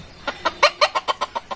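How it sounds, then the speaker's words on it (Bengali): Chickens in a village coop cluck in a quick run of about ten sharp, evenly spaced calls, close and clear against a quiet background. "আর এই যে বড় মুরগি সব এই জায়গায়।"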